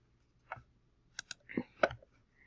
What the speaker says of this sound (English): And click save, submit Word document.